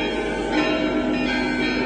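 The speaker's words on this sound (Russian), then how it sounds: "С колокольни, как с небес, льется ликующий пасхальный звон." Easter church bells ring out from a bell tower, a sustained, resonant metallic tolling with long overlapping ring tones, moderately loud and continuous, heard alone without voices.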